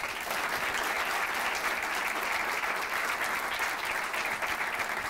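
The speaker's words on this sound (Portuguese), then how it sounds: "Recebam com um enorme aplauso o maior, Ruben Branco." A stand-up comedy audience applauds as the next comedian is welcomed on stage, a dense, sustained clapping from a full crowd that stays loud and even throughout.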